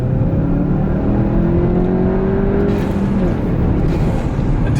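A modified 2021 Volkswagen GTI accelerates hard in second gear, a loud close engine note rising steadily in pitch under cabin road roar, with no talking.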